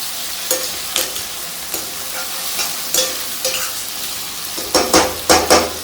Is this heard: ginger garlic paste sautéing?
yes